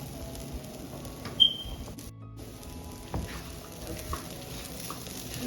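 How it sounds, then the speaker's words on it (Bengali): Dried red chilies fry for hotel-style bhuna khichuri, a faint crackling sizzle close by with a couple of soft knocks from stirring against the pot. "এই দুটো ভাজা শুকনো মরিচ দিয়ে দিলাম"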